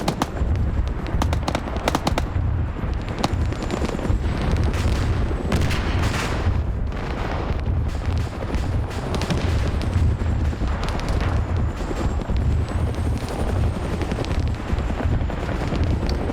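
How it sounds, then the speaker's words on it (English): Tanks fire on the ground in a video game, heavy booming blasts and sharp cracks recurring irregularly through a dense, rumbling battle din. "I can hear the tanks on the ground fire."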